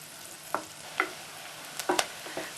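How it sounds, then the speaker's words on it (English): Onion sizzles steadily in a hot pan while a utensil scrapes and stirs through it several times, with soft irregular clatters over the constant frying hiss. "Frying the onion this way not only softens them up"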